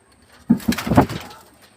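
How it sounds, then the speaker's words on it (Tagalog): A pigeon coos up close, a short series of three or four soft, throaty notes that fade quickly. "Ibon ni Jel oh."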